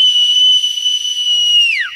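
A clear, high whistle in an audio fairy tale holds one steady tone for almost two seconds, then slides sharply downward at the end, loud and alone.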